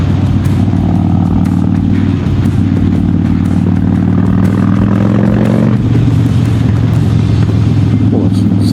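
A Harley-Davidson Dyna Street Bob motorcycle engine rumbles loud and close with a steady low throb, its pitch shifting around midway as the revs change.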